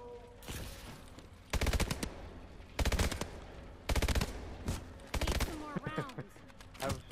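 Gunfire from the AW Exo Zombies video game rattles out in five or six loud, close automatic bursts, separated by short pauses, with a brief voice near the end.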